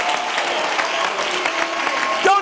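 A church congregation applauds during a sermon, a dense, even wash of many hands clapping close by, sustained for the whole moment.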